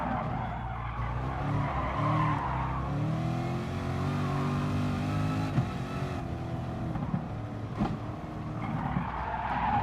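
Tires squeal and skid as a race car brakes hard into a tight switchback corner in Gran Turismo Sport, the screech running continuously over the engine's roar and shifting revs.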